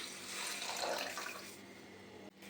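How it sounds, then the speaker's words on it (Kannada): Steady stream of water poured into a pan of chicken curry with turmeric and salt, running and splashing for a couple of seconds, close and moderately loud, then cutting off briefly near the end. "ಇದಕ್ಕೆ ಇವಾಗ ನೀರು ಹಾಕೊಂಡ್ಬಿಡೋಣ."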